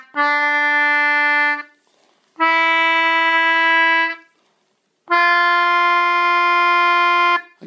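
A scale played on an English concertina, its reedy sustained notes grouped in three long bursts separated by brief pauses, close and fairly loud with no talking.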